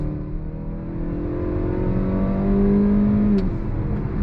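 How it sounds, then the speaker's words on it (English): A 2022 Mazda CX-5 Carbon Edition with a 6-speed transmission pulls onto a highway under throttle, its engine droning and rising in pitch with a steady interior rumble and a brief tick near the end. "pulling out onto the highway here we go, on throttle. 6-speed drops down and we're off"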